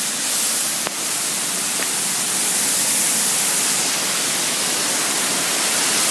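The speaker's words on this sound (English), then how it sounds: "there's a waterfall" A waterfall rushes in a steady, loud, broadband roar of fast-moving water that fills the whole stretch without letup.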